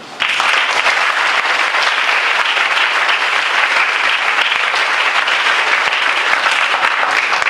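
A large audience applauds steadily after a junior debate round between SASS and NHHS, the clapping loud, dense and unbroken for the whole stretch after a quick start.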